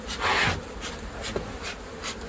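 Honeybees buzzing from a large hive inside a shed, a soft continuous hum with a few brief louder swells, close and alone with no talk.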